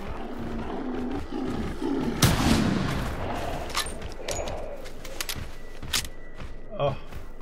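A rifle fires in TheHunter Classic, a sharp loud bang near the middle, followed by several smaller thuds and echoing cracks over an outdoor ambience with low murmuring.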